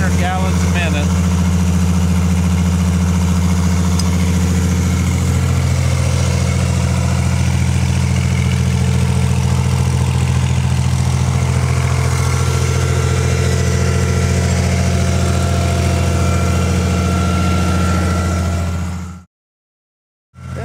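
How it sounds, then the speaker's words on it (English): An old semi-truck engine idles steadily while powering a farm water pump, a loud close continuous rumble that runs unbroken for most of the clip before cutting out. "it's just whatever spare engine they got laying around that still runs, they put it on a pump"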